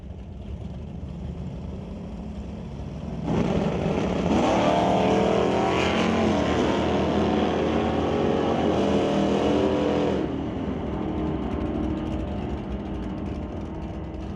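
Drag race cars, a Chevrolet Malibu and a Chevelle, roar in a loud burst lasting several seconds at a tire wholesale pro race event. The sound rises sharply from a distant background rumble, holds loud and broad, then falls back to faint ambient noise.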